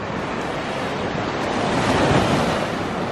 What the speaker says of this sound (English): I'm at the beach at night